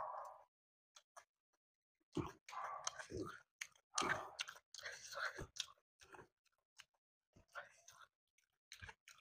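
Crunchy mirchi bhajji being chewed up close in a spicy eating challenge between a parent and son, with irregular bursts of biting and mastication, gaps of quiet between them, and some voice sounds mixed in.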